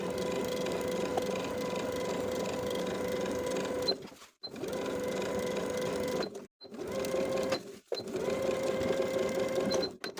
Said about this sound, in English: sewing that facing to the seam allowance underneath all the way around, about 1/8 of an inch away from the original seam